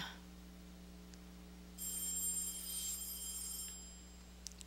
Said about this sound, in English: fucking phone. Ruin a moment.